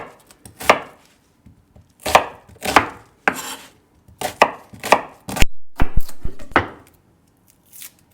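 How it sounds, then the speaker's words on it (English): Onions roughly chopped with a knife on a board for falafel, sharp clustered chops in irregular bursts with short pauses, close and fairly loud, no talking. "So you want to roughly chop the onions like this big."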